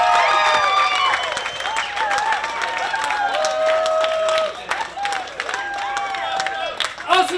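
A crowd at a cooking contest at an outdoor food festival applauds and cheers for the winners, a dense wash of clapping that fades toward the end while a host's voice talks over it.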